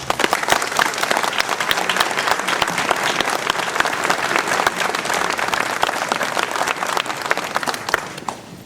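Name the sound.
audience applause at mayor's New Year speech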